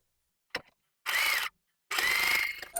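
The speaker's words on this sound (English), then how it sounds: "I'm going to sew it just right across and just attach it to it." Sewing machine stitching straight across an improv wonky house quilt block. Two short, close whirring bursts, the second longer, are separated by a brief pause, with a faint click before them.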